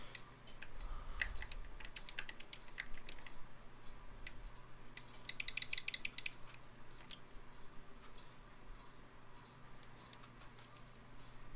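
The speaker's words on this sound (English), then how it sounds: "Looks like I'm gonna have to type out the name real quick." Light, quick clicks of typing on a computer keyboard, an irregular patter of faint keystrokes over steady background hum, with a denser flurry near the middle and no voices.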